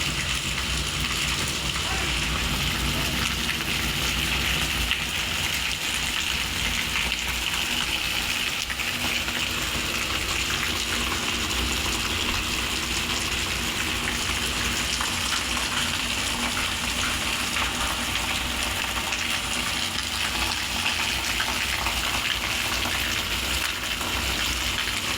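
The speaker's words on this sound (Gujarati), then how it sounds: "જો પાણી ચાલુ થઈ ગયા ફરિયામાંથી" Heavy rain with water gushing and pouring steadily through a farmyard in Gujarat, a dense continuous wash of noise that stays loud and unbroken throughout.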